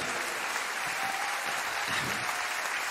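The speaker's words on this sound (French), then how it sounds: "Les applaudissements pour les cuivres, s'il vous plaît." An audience at a live Creole jazz concert at l'Atrium claps for the brass section, a steady, moderately distant wash of applause with a faint tone lingering underneath.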